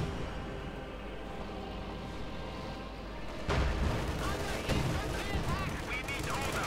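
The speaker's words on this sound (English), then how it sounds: "artillery strike going in as well" An artillery strike in the strategy game Company of Heroes 2 lands as a dense rumble of booms and gunfire under a busy battle mix, growing louder partway through.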